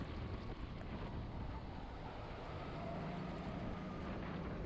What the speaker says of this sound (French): On peut entendre aussi il y a beaucoup de vent. Surtout dans la ligne droite qui descend.